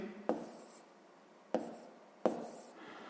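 A pen scratches out an inequality in a notebook in three short, separate strokes, each a crisp scrape that quickly fades, close and quiet with no talking.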